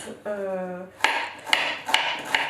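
A dull kitchen knife chops through cod, bacon or similar ingredients on a board, giving four sharp knocks spaced about half a second apart after a brief voice.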